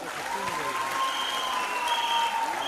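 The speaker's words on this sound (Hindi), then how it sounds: "एक बार जोरदार तालियां तीनों के लिए।" Audience applause at an annual Anganwadi awards function, a steady crowd clapping that holds evenly throughout with no voices on top.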